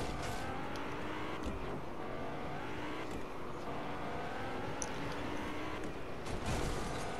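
Car engine from the Fortnite video game as the vehicle veers off the road during a race around the map, a continuous rumbling motor drone with shifting pitch and no voices.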